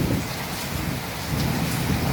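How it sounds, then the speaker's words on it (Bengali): Heavy rain pours down in a Kalbaisakhi storm with a constant loud roar, and low thunder rumbles beneath the downpour throughout. "প্রচণ্ড পরিমাণ বৃষ্টি এবং রস হাতে বজ্রপাত"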